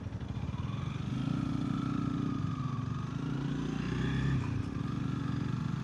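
A Honda Rebel motorcycle engine hums with a low, steady rumble nearby while the rider shifts through the gears, its pitch dipping slightly near the end.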